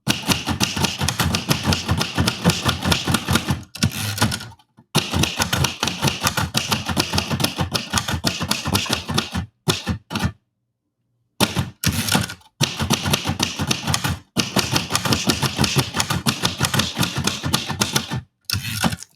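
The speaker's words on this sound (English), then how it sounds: "Writing on a typewriter back in the day?" Typewriter keys clack in fast, busy bursts of continuous typing, loud and close, with a few brief pauses and one longer gap partway through.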